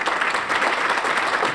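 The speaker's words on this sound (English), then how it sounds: "So let's give these gentlemen a round of applause." Steady, dense clapping from an audience, loud and continuous throughout with no voices breaking through.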